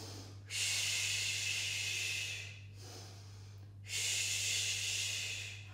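Two long, airy breaths during a Pilates exercise with arm beats, each a steady hissing inhale or exhale close to the microphone, separated by brief pauses.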